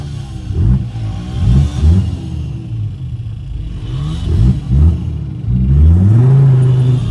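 The five-cylinder engine of a 40-year-old Mercedes W124 revs repeatedly in short rising bursts over a steady idle rumble, then settles into a sustained higher drone toward the end, loud and close.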